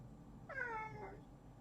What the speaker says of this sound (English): If you can hear the sound of a cat meowing